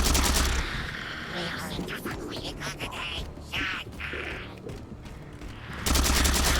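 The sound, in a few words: gunfire in the video game Halo 4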